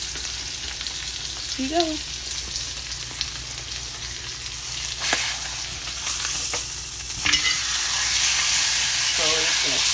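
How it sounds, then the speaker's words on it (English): Steak searing in a hot pan gives a steady, close sizzling hiss that swells toward the end, with a brief spoken voice over it. "I still can't believe 40 people are watching me sear a fucking steak."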